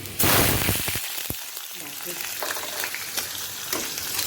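Sliced onion hitting hot oil in a pan already seasoned with chili and five-spice, a sudden loud burst of sizzling that settles into a steady crackling fry with some stirring clatter.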